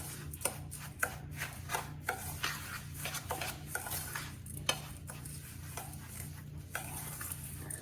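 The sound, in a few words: mixing lemon bar crust with a spoon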